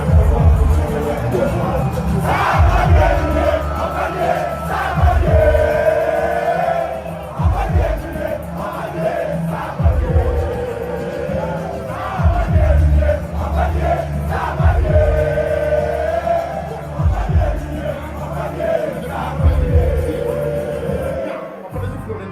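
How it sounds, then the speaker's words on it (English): A large outdoor crowd at a political rally roars and chants in repeated swelling waves, loud and dense, with scattered shouts and occasional bangs throughout. "It's a very impressive crowd."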